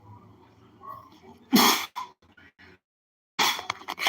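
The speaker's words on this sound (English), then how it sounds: "Sneezing." A person sneezes indoors, a sudden loud burst of breath and spray, followed by short rustling sounds and another loud burst moments later.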